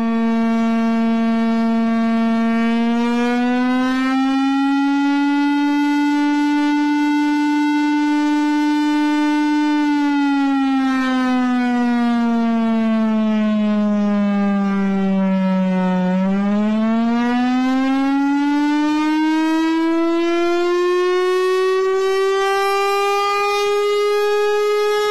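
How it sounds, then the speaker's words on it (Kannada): A civil defense air raid warning siren sounds during a war preparedness drill, one loud, unbroken wailing tone that slowly rises and falls in pitch for the whole stretch, with no talking. "ಶತ್ರುಗಳು ವಾಯುದಾಳಿಯನ್ನು ಮಾಡಿದಾಗ ಈ ಸೂಕ್ಷ್ಮ ಪ್ರದೇಶದಲ್ಲಿ ಯುದ್ಧದ ಸೈರನ್ ಮೊಳಗುತ್ತೆ."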